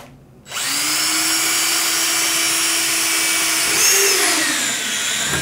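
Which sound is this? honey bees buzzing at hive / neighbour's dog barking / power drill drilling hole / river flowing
power drill drilling hole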